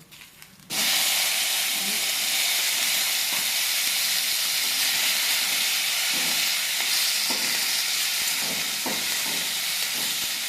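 Tomatoes hit a hot pan for curry leaf chutney with an abrupt, loud burst of hissing sizzle that holds steady and close for the rest of the clip.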